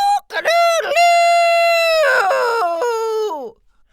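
A human voice imitates a rooster's crow, one long loud drawn-out call with a rising start and a wavering, falling finish, heard alone.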